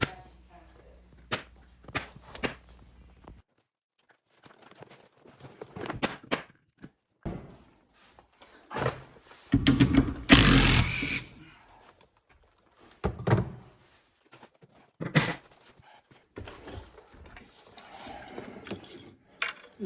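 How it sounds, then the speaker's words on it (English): A pneumatic air-powered nail gun fires while an OSB ceiling is being hung, giving a series of sharp, close thunks and snaps at irregular intervals, some in quick pairs, with handling clatter between shots. "It's a nail gun that runs on air."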